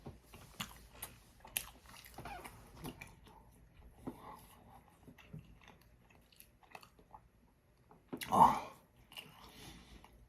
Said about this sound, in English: So I don't have to chew it for a super long time.